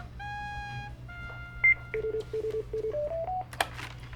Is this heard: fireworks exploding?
no